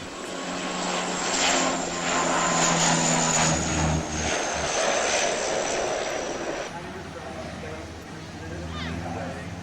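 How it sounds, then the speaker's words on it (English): A Canadair CL415 amphibious firefighting aircraft in a flying display, its turboprop engines roaring loudly and then fading slightly as it passes, with a commentator talking over the engine noise. "And a very spectacular display with this Canadair CL415."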